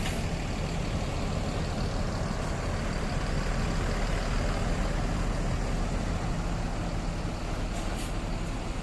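A bus engine rumbles steadily at close range while the bus parks, a continuous broad drone with a couple of brief hissing bursts, like air brakes, near the start and end.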